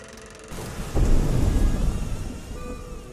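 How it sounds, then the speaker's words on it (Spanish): Heavy rain pours during a night thunderstorm as a deep, loud thunder rumble rolls in and slowly fades, with steady rainfall hissing throughout and no voices. "Esa noche llovía."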